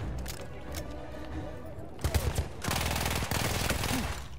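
Gunfire in Battlefield 1 singleplayer inside bunker complexes: a few scattered shots, then a burst of rapid close firing and dense sustained gunfire over game ambience, with someone talking beneath.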